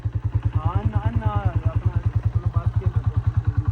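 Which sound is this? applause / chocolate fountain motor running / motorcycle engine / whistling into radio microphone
motorcycle engine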